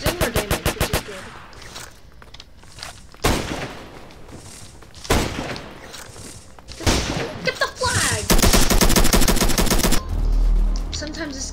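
Video game gunfire in Flag Wars, rapid repeated shots in close loud bursts and volleys, some like automatic fire, with brief gaps between them and no speech.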